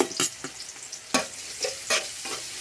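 Ginger sautéing in oil for a Filipino ginataang langka dish, a close sizzle punctuated by several sharp stirring scrapes and clatters in quick succession.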